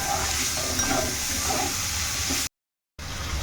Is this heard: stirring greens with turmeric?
yes